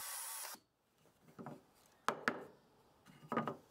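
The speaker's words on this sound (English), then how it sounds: "This drill looks like the right size, but let's test it with some scrap wood first" A drill whirs in several short bursts into scrap wood, test-drilling a hole, with quiet pauses between each grinding spurt.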